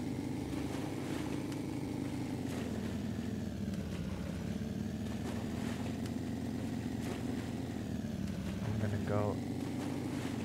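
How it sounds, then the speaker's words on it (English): A vehicle engine in the survival game Sunkenland drones steadily in a low, buzzing hum with a grinding, paper-shredder-like quality, rising briefly near the end, while a person talks over it. "Engine sounds like a paper shredder."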